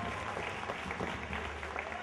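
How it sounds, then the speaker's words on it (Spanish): Audience applause at a live concert as the band members are introduced, a dense wash of clapping heard at a moderate distance and fairly quiet, with a low hum running beneath it throughout. "Un aplauso para él, por favor."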